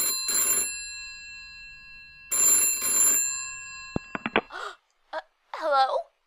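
A telephone rings for an incoming call in two loud bursts of electronic bell tones with a pause between, followed by clicks and a brief voice.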